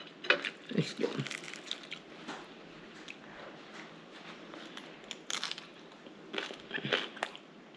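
Crisp crunching bites and chewing of a crispy Vietnamese savory crepe (banh xeo) with fish sauce, close and fairly quiet, in irregular bursts with short pauses between them.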